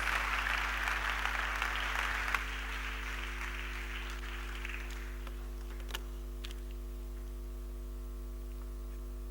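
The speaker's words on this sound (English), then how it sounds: "Let's welcome him with a round of applause." A seated audience at a church-hosted life improvement seminar applauds to welcome a speaker, a broad wash of clapping that fades away after about five seconds, leaving a steady electrical hum in the hall.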